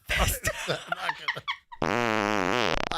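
A loud fart sound effect plays after a short burst of sputtering noise, ending in a long buzzing tone held for over a second.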